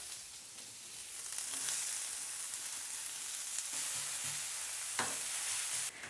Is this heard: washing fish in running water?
no